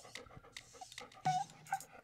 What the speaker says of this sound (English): that's the dog in the doghouse